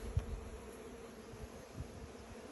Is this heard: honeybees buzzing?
yes